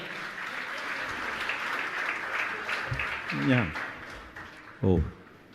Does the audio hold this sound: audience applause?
yes